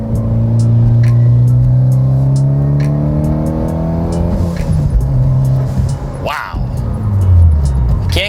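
Mitsubishi Lancer Evolution X GSR engine gives a loud, low vibrating rumble under load, then sputters and crackles as the throttle is released, with a brief burst of other noise near the end.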